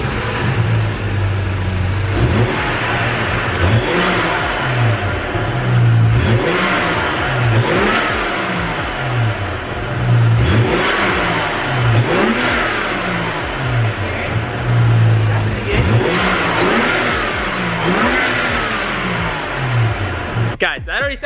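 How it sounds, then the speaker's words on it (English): A BMW 435i turbocharged engine fitted with a new aftermarket intake revs repeatedly, each blip rising and falling in a steady rhythm of about eight revs. It is loud and close, with turbo whooshes and occasional talk over the engine. "I guess it's time to hear some revs"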